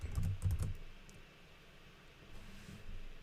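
Typing on a computer keyboard during a Rust programming session, a quick close burst of key clicks at the start, then a pause and a few softer keystrokes near the end, with no talking.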